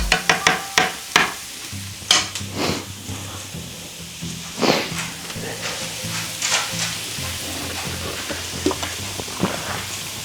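Shallots sizzle in a pan with a steady frying hiss, opened by a quick run of sharp utensil knocks and followed by occasional clinks as they cook.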